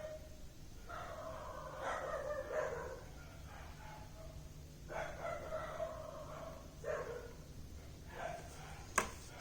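Stray dogs barking in repeated bursts some distance away, with howl-like calls rising and falling over a quiet indoor room background.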